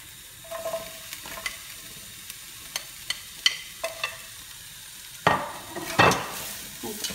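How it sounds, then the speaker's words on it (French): Translucent, lightly browned onions with freshly added carrots are stirred in a pan, giving a soft frying sizzle with scattered utensil scrapes and taps and a couple of louder stirring bursts near the end. "Donc, je mélange"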